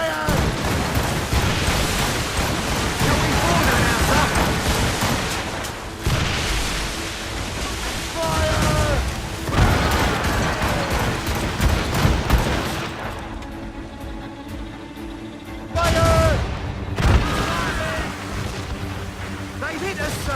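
Ship cannons in Assassin's Creed Rogue boom in repeated volleys over ocean surf and creaking vessel noise, with loud bursts scattered throughout and voices shouting orders between the blasts.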